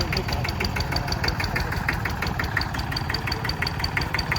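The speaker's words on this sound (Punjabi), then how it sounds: "ਲੋ ਜੀ ਬਾਈ ਟਰੈਕਟਰ ਚੱਲਿਆ ਆਪਣਾ" An IMT 533 tractor engine running near the listener, a steady low diesel chug with a regular knocking rhythm and metallic rattle throughout.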